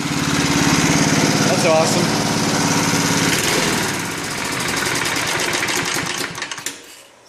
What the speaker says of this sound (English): My lawnmower is running on gas again.